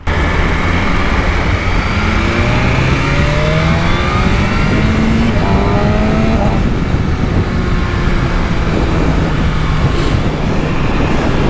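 A BMW S1000RR sport motorcycle with its ECU limited to 8,000 RPM rides onto a highway, its loud engine droning with rising and shifting pitch under heavy wind rush for the whole stretch.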